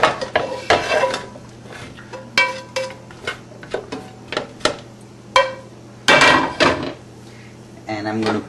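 Golden-brown fried chicken pieces for chicken cafreal moved into a flat-bottom pan, heard as a run of close metallic clinks, scrapes and knocks of utensil against pan, irregular and separated by short pauses.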